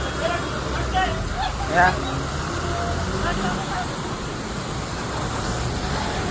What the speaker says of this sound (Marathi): तिकडची ही ट्रॅफिक आहे सगळी